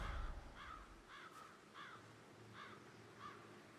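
Crows in the video game Hitman gather in a tree and caw faintly in a regular series of about six harsh calls over a quiet outdoor background.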